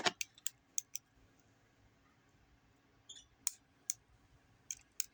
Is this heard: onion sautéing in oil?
no